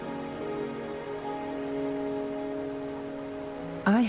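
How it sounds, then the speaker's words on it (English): Steady rain falls in the video game Wuthering Waves, a continuous even hiss with a sustained musical drone beneath it, broken by a brief louder chime near the end. "Are you trapped here by the rain?"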